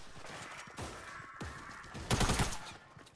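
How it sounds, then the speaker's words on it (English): Several bursts of gunfire in the video game Fortnite, loud and close, with the heaviest volley coming late. "where are we getting shot from?"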